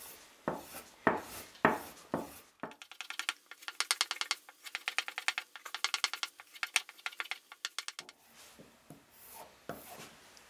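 A Bark River convex ground knife is sharpened by hand, with rhythmic rasping strokes against an abrasive, first a few slow passes, then rapid repeated scrapes, close and clear.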